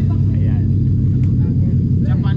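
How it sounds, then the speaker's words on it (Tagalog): Loud Ford Mustang exhaust rumbling close by, a deep, steady low roar throughout with faint voices in the background. "Tunog ng sasakyan niya. Ang lakas-lakas."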